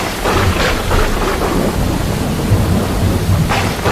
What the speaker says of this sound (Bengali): জোরে ও প্রবল বৃষ্টি আসে যা পৃথিবীতে এর আগে কখনো দেখা যায়নি